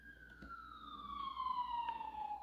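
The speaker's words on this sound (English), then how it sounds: "Do these sirens make you nervous?" An emergency siren wails steadily outside the old Harriman Hospital building, its tone gliding slowly downward as the vehicle passes by at a moderate distance.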